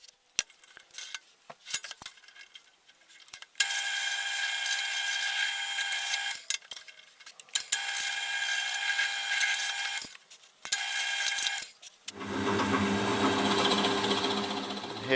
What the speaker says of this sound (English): Here I'm just cutting out some counterbores, some oval counterbores for the bolts